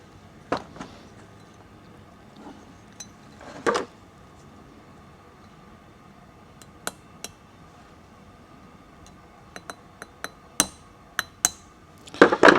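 Side cutters tap a pin on a Yamaha TW100 scooter, sharp metallic taps ringing out in scattered bursts, a few isolated hits early on and then a quicker cluster of clinks near the end, close and fairly loud.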